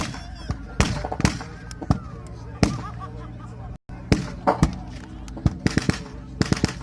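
Artillery-style blasts at a wartime reenactment event, scattered sharp bangs and pops of varying loudness, some distant and some close, with people talking in the background.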